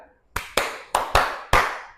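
Five sharp hand claps in a quick pattern, two then two then one, close and loud with brief gaps between them.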